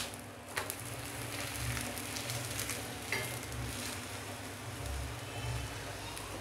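Aloo paratha fries in a light coating of oil on a pan, giving a soft, steady sizzle with a few faint clicks and scrapes, close by and without talking.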